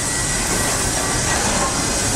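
A train rumbles steadily past at close range, a continuous broadband roar with a faint metallic hiss and no distinct pauses.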